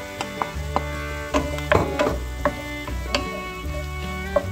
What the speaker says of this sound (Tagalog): Lagay na natin ang kalabasa.